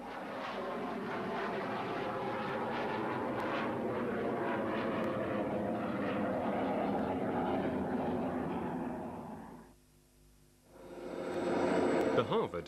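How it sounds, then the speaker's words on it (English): A US Air Force T-33 Silver Star jet flies at an air fair, its loud, steady engine roar sustained for about ten seconds under faint background commentary before briefly dropping away and swelling again. "The old flying machine company's first aircraft to take to the air today is the US Air Force's T-33 Silver Star, flown by Mark Hanna."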